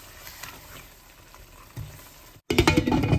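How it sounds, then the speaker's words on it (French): Zucchini and green chilies frying in a pan over maximum heat: a quiet, faint sizzle that suddenly jumps to a loud, dense crackling frying sound after a brief silence. "à feu maximum, Je vais mettre les piments verts et on va le faire cuire encore 1 à 2 minutes."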